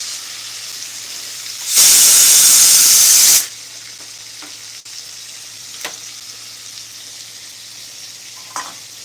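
Cumin powder hits a hot pan and bursts into a loud, sharp hiss for about two seconds, then dies away to quiet background with a few faint clinks.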